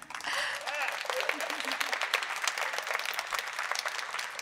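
Audience applause and cheering at a concert by The Purple Symphony at National Gallery Singapore, steady clapping throughout with some voices mixed in near the start.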